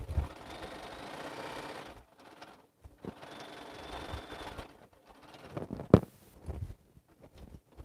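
A sewing machine stitches a quilt seam on a patriotic quilt, running in two bursts of steady mechanical whirring separated by short pauses, fairly quiet and close, with a sharp knock near the end.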